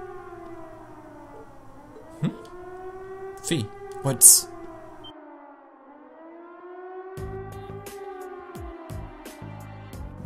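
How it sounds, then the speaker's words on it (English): A video game siren sounding from a fort wails, rising and falling steadily in the distance, with short bursts of talk and a few sharp knocks over it. "It sounds like a siren."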